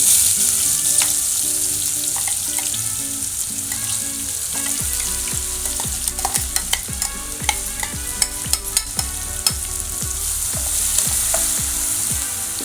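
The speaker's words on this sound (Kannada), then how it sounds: "ಎಣ್ಣೆ ಕಾದಿದೆ, ಹಾಕ್ತಾಯಿದ್ದೀನಿ. ಇದು ರುಬ್ಬಿದ್ದು" Ground tomato paste hits hot oil in a pan for tomato pickle, giving a steady loud sizzle and frying hiss with repeated scraping stirs throughout, no voices.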